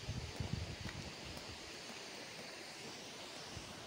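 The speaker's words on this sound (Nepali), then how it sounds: "यो झरनाको स्याट आएको होला" A waterfall in Dhading rushes as a constant, broadband roar, steady and fairly distant, with a few faint knocks near the start.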